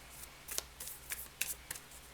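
Tarot cards being shuffled by hand in a quiet room, a series of short, crisp riffles and snaps spaced irregularly, close and fairly soft with no talking.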